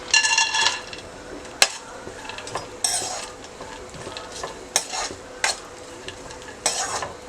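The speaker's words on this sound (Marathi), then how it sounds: "ड्रायफ्रुट्स फ्राय करून घ्यायचे आहेत।" Raisins, almonds, cashews and apricots fry in hot ghee for a rice kheer, with a soft crackling sizzle punctuated by sharp clinks and scrapes of a spoon against the pan at irregular moments.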